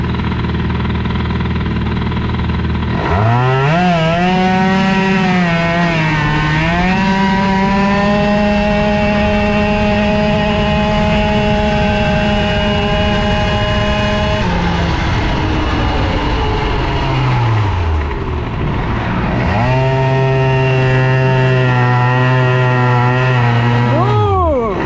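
A Bidalot RF 50 WR moped engine with a 70cc exhaust pipe, its carburettor running too rich at idle. It starts with a buzzing rise, holds a loud, droning two-stroke note, then fades and dips before revving back up near the end.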